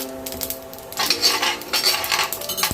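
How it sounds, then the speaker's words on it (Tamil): Elephant foot yam pieces stir-fried in a pan until crispy, with metal utensil scrapes and clinks against the pan in two bursts over a faint background, no voices. "இந்த அளவுக்கு மொறுமொறுன்னு வர அளவுக்கு வதக்கிக்குங்க."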